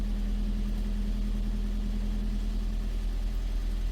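A used car engine idles at a budget vehicle auction with a steady low hum and even drone, quiet and unchanging throughout, with no voices.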